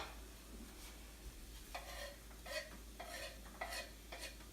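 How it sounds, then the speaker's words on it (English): Onions and peppers stirred into scrambled eggs in a frying pan, heard as a faint steady sizzle with a series of quick scraping stir strokes, quiet and close, without talking. "And you can stir them around so they can get a little cooked as well."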